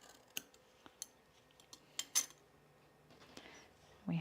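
Scissors snipping through dress fabric during sewing, a series of short, sharp metallic clips spaced irregularly, fairly quiet and close, with a soft rustle near the end and no talking.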